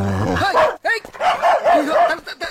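A dog barks and yips repeatedly while chasing people in a Tamil comedy film scene, its bursts loud and close, mixed with excited voices talking over it.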